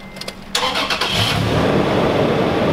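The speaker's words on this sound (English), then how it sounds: "So, started the truck." A truck engine cranks briefly and catches, then settles into a loud, close, steady idle rumble inside a garage.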